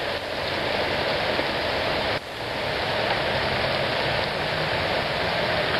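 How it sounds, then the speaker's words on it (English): A dense, continuous roar of hail pelting down during a July hailstorm in Springfield, Oregon, with stones about three-quarters of an inch across, loud and even with a brief dip partway through. "I want you to see the size of this hail."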